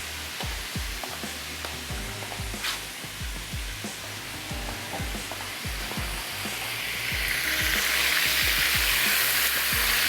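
Stuffed okra (bharli bhindi) sizzling steadily in a pan while a large spoon turns it now and then, the frying hiss swelling louder toward the end, with no talking.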